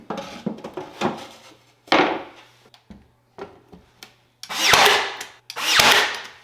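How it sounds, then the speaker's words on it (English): A power drill drives pocket hole screws into the middle support of a plywood face frame in short, separate bursts, then two longer, louder runs near the end. "For the middle support, I used pocket hole screws to secure it"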